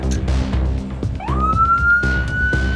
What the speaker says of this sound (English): now we're going to hit them with the siren, and then hopefully they'll get scared